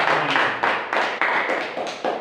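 An audience applauding, a burst of claps bunched into uneven beats over about two seconds, close and fairly loud, with no talking.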